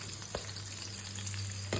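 Chopped onion and tomato fry in a pan as the base for a simple mushroom curry, giving a steady, soft, close sizzle broken by a few light stirring clicks and no talk.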